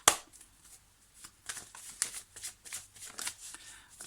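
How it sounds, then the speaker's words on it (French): Oracle cards being shuffled by hand, a soft papery riffle of repeated flicks and slides, close and fairly quiet, with a little speech in the background. "Je vais sortir quelques cartes avec l'oracle coup de cœur pour terminer."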